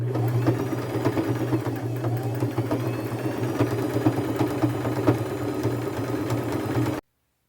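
Sewing machine running a straight stitch in gold thread around the edges of fabric patches on a pair of upcycled thrifted jeans, a steady close mechanical whir that stays even for about seven seconds and then stops abruptly.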